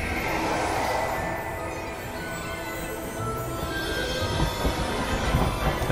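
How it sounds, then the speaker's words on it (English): Hogwarts Legacy steam train rumbling steadily with a broad, continuous rolling roar and faint wheel squeal, heard alone without talk. "There's the train."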